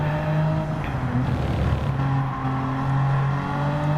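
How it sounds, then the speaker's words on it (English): A BMW M Performance racing car engine in Gran Turismo 7 drones steadily at high revs in first gear, holding a buzzing, bouncing note against the rev limiter, with a low rumble throughout. "You can hear him hitting the rev limiter."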